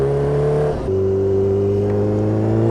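A Kawasaki Ninja H2R motorcycle engine revs loud and close, a steady harmonic drone that dips briefly at a gear change, then pulls on with no voices over it.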